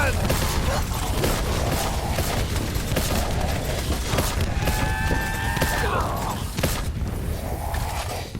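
A cannon fires in Black Ops 4 Zombies (Voyage of Despair) amid a dense, noisy battle of booms, thuds and mechanical clatter, with a rising whistling tone in the middle.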